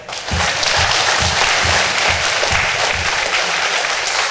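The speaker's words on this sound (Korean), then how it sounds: "하나님께 영광의 박수 한번 드려요." Church congregation at a Korean national revival meeting for pastors and their spouses applauding to give glory to God: loud, dense, continuous applause filling the hall, with a rhythmic low thumping underneath.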